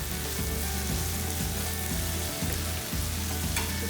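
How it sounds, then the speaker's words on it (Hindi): Chicken fries with soy sauce in a pan, giving a loud, constant sizzle that stays dense throughout with faint stirring knocks underneath. "इसको अच्छे से फ्राई कर लेते हैं।"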